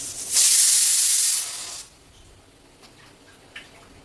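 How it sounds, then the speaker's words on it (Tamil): A pressure cooker whistle on a kitchen stove, cooking chicken gravy, bursts out in a loud, sharp hiss of steam for about a second and a half, then cuts off, leaving quiet room noise with a faint click. "விசில் அடிச்சிருச்சு"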